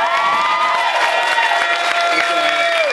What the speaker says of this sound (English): just a big round of applause for Rihanna